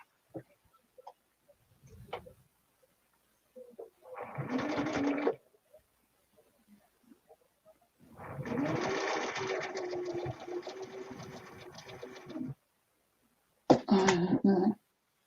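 A sewing machine stitches quilt pieces for a Farmer's Wife quilt in three loud, steady whirring runs of a second to several seconds, separated by pauses with faint handling noises and a short throat sound.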